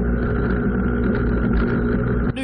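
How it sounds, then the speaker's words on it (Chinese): A motorcycle pulls away from a green light at a city intersection in Zhonghe as the rider lifts into a wheelie, its engine giving a loud, steady, close droning roar that cuts off abruptly near the end. "绿灯起步，马上听见引擎轰隆作响"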